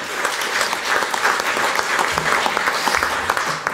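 Sustained audience applause at a Dutch foreign-policy election debate in Amsterdam, dense and steady clapping filling the whole stretch with no talk over it.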